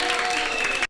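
A brief burst of crowd clapping at a beatbox loopstation competition livestream, dense and bright, lasting under a second before cutting off abruptly.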